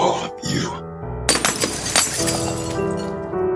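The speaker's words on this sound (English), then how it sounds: "The window shattered all at once, exploding inward in a shower of broken glass" Window glass shatters all at once, exploding inward in a loud crash followed by a spray of tinkling shards scattering for a couple of seconds.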